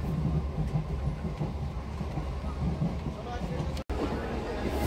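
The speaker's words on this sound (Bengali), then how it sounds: "ট্রেনে উঠে গেলাম বগুড়া থেকে, আর এই জাস্ট বগুড়াই ছাড়লো ট্রেন।" A passenger train running just after leaving Bogura, a steady low rumble and rattle heard from inside the carriage, continuous throughout with a brief dropout near the end.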